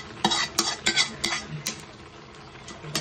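Shrimp for chopsuey being stirred and scraped in a pan, a handful of sharp metallic utensil scrapes and clinks at close range over a faint background hiss, with no voices.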